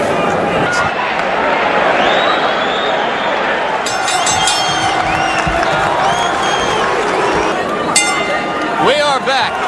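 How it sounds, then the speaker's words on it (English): A boxing arena crowd during round 10 of the Mike Tyson vs James Tillis fight in Glens Falls, New York, a steady, dense murmur of spectators with occasional clinks and shouts, under continuous commentary. "The crowd tries to liven itself up."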